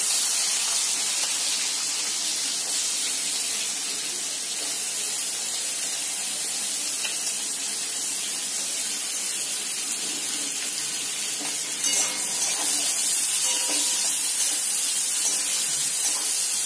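Chopped onion frying in hot oil in a pan for desi-style pasta gives off a steady, dense sizzle that holds evenly throughout and grows slightly louder near the end, with no talking.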